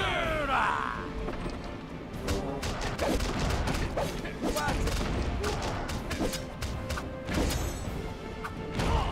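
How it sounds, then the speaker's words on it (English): Bombing minions blowing up in the mobile castle-raid game Seven Guardians: a dense, continuous barrage of sharp, crackling blasts, close and steady throughout. "The bombing minions are doing so much damage."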